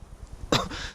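A single sharp, close cough bursts out abruptly midway, preceded by faint low rumbling background noise.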